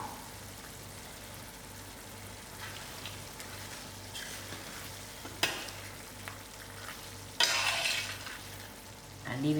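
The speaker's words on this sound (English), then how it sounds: "now I'm going to add in my prawns just to let it simmer for a little while" Prawns simmering in chicken curry with stock in a pot, a soft steady bubbling and low sizzle broken by a few sharp clinks and stirring knocks.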